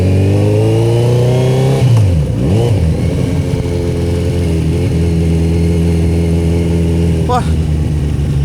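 A Kawasaki Z900 RS motorcycle engine drones steadily up close while riding, dipping and then pulling again with a rising rev, loud and continuous, with a rider talking over it.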